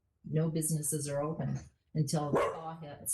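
A dog barks in the background during a Bothell city council meeting while a person keeps talking over it in two stretches of speech.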